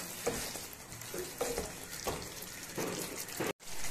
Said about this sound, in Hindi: अभी अच्छे से मिक्स कर लूंगा सभी मसालों को